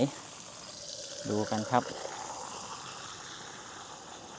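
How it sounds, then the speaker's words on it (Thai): Tap water runs steadily from a faucet outside a village school in Udon Thani, Thailand, a constant hissing flow in the background while someone speaks briefly. "น้ำไหลไหมอ้อไหล"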